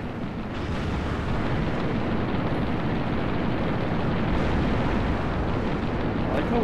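Dense, rumbling explosions fill the Halo Reach space battle, a loud continuous roar of blasts and booms with no clear gaps.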